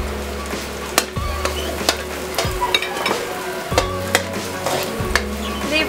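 Onions and cooked pork for pancit lomi sizzle loudly in a pan while a spatula repeatedly scrapes and knocks against the metal in an irregular rhythm, close and clear.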